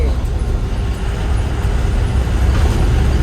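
Engine drone of an Elf Short truck pulling out to overtake in road traffic, a steady low rumble that holds loud and even throughout, with a person talking over it.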